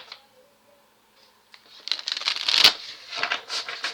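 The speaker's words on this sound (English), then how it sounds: "So I'm gonna shuffle and see what comes out." A deck of reading cards is shuffled by hand: after a quiet opening, a run of quick papery riffles and flutters in close, dense bursts.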